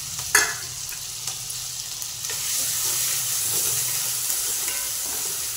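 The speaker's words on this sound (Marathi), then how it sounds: "आणि असं परतून घेऊया" Ginger, green chili paste and cardamom pods sautéing in a pan, a steady close sizzle with a sharp clatter near the start and faint stirring scrapes throughout.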